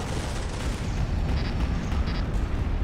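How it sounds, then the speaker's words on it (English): Heavy bombardment explosions in the video game RAGE: a dense, continuous low rumble of booming blasts sustained throughout, loud and close, with faint higher tones briefly surfacing. "Bombardment, Bombardment incoming"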